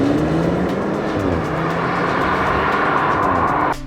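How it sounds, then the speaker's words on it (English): A BMW 228i pulls hard from a standstill toward 60 mph in a drag test, a loud, steady engine roar holding for several seconds before dropping off abruptly near the end. "next we decided to test the BMW from 0 to 60"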